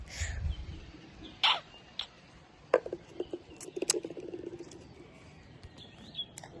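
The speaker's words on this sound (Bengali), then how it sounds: "দেখতেই পাচ্ছেন পাখি" A few scattered bird chirps ring out faintly at irregular intervals against a quiet outdoor background.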